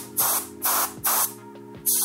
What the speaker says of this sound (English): if you take compressed air and just blow